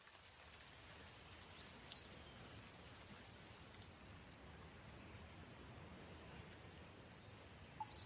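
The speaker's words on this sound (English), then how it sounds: "The nice little rain falling." A rain sound effect: faint, steady rainfall patters softly throughout with a gentle hiss, and a brief bird chirp near the end.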